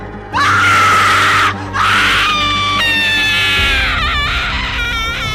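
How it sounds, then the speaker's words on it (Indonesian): A woman screams at full force, a long loud shriek that breaks off briefly and then resumes, wavering and cracking through several sustained cries. "si wanita ini pun sadar dan langsung menjerit sejadi-jadinya."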